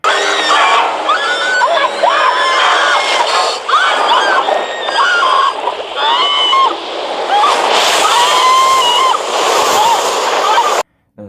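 Several high-pitched screams and shrieks overlap amid splashing water in the film 47 Meters Down: Uncaged, loud and frantic, with voices crying out throughout before an abrupt cut.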